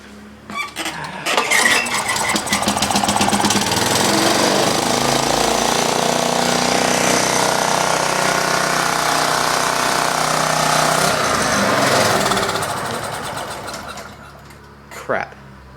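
An engine cold-starts with the choke on, catching and running loud and rough for about ten seconds before its clatter fades out near the end.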